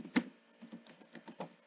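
Computer keyboard typed in short quick bursts of clicky keystrokes while entering a slogan, fairly close and quiet, with no voices.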